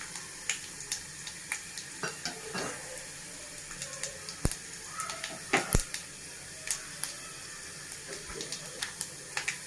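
Mustard seeds pop and crackle in hot oil while tempering for gongura pachadi, scattered sharp splutters over a quiet sizzle, some louder bursts in the middle.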